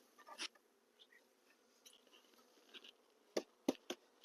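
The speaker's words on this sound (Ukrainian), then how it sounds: "витрушуємо бджіл. Ті, що залишилися." Honeybees being shaken off frames from a warm hive, giving a faint, thin buzzing with scattered rustles and a few sharp, close knocks near the end.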